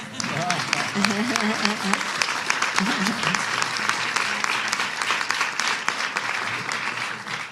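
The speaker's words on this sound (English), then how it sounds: "That's a line for applause." A congressional audience applauds during a speech on health care legislation, steady dense clapping for several seconds after a speaker's voice at the start.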